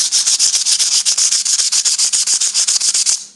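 Emery abrasive is rubbed quickly back and forth over a cast iron manifold in loud, close, rapid scraping strokes that fade out at the end, with no talking.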